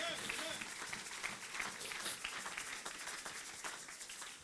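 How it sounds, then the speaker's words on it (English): A church congregation claps its hands in a steady rhythm during a worship service, the claps moderately loud and mixed with crowd noise. "Clap your hands for Jesus Christ."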